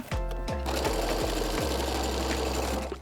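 Sewing machine stitching denim jean legs back together, running in a fast, steady mechanical chatter after a few short starting bursts, loud and close with no voices.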